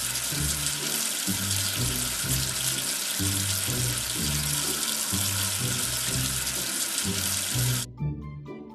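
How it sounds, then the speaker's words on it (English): Water runs steadily to rinse soap off a dirty letter in an English-learning video game, a continuous close rushing splash over looping game music, which cuts off abruptly near the end. "Wash away the soap with water."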